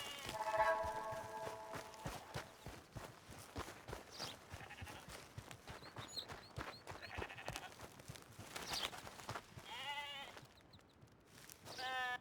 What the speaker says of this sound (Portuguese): E pelo barulho das cabras